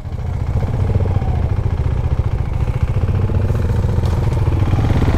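Motorcycle engine running steadily near the Tamil Nadu border, a continuous low throbbing drone with some clatter that stays loud and even throughout, with no talking.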